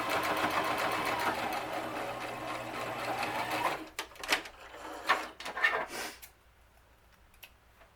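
Fabric face mask run through a sewing machine, a steady close motor whir of continuous stitching for about four seconds, then stopping and followed by scattered handling clatter and quiet.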